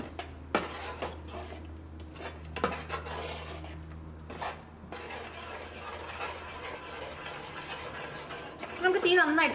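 A spoon stirs blended curd with tomato curry in a pan for moru curry, bringing soft scraping and clinks of metal on the pan. Quiet stretches fall between the sounds, with a low hum underneath.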